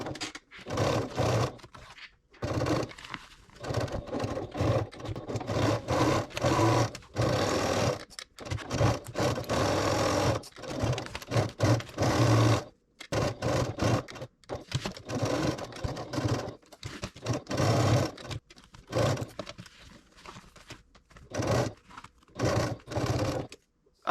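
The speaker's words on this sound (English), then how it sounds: "So let's go to the sewing machine and do that now." A sewing machine stitches a tapering seam on a tote bag, its motor whirring in steady bursts of rapid needle chatter broken by short pauses, fairly close and loud with no talk.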